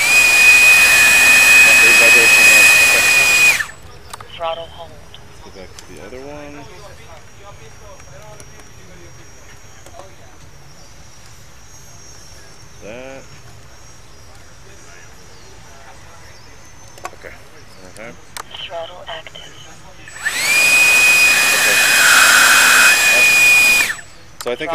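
An electric ducted fan spins up to a loud, high-pitched jet-like whine and runs at throttle for a few seconds, cuts out, then roars back near the end. A person talks quietly in the gap between runs.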